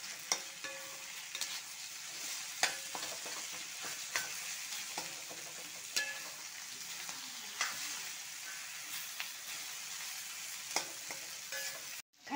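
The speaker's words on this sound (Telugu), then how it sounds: "బాగా మిక్స్ చేయాలి." A spoon stirs potato kurma curry in a pan over a constant soft sizzle, with faint scraping clicks at irregular intervals across the whole stretch.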